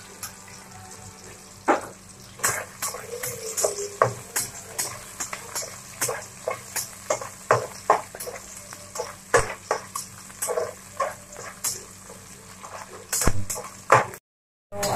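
Garlic sautéing in a pan for a tofu dish, a steady sizzle broken by repeated sharp scrapes and taps of a utensil stirring against the pan, close and fairly loud with no talking.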